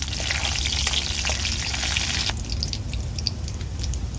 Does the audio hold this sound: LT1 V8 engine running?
no